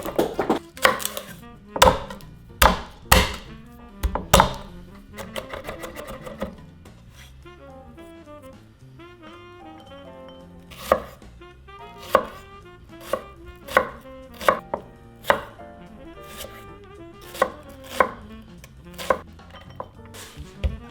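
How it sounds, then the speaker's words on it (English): A knife chops a large shallot and garlic cloves on a cutting board, sharp rapid bursts of taps alternating with slower single strikes and short pauses, close and crisp with no speech. "now we're gonna go ahead and chop up a large shallot and 4 cloves of garlic"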